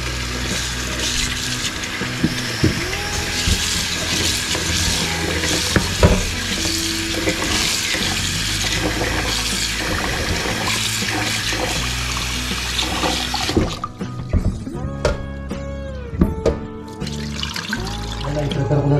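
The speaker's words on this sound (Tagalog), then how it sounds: "Hugasan muna natin." Food is washed under running tap water in a home kitchen before cooking, a steady close splashing and trickling stream with clatters of handling, quieter clinks and drips near the end.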